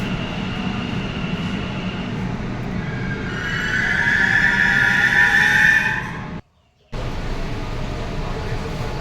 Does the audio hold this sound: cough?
no